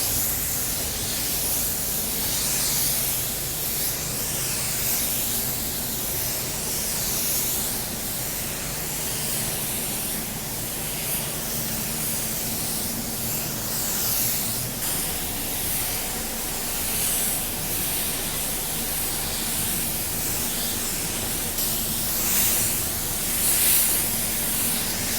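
Spray gun laying a coat of paint on a car bumper: a continuous airy hiss, soft and steady for the whole stretch with slight swells as the gun passes, no talking over it.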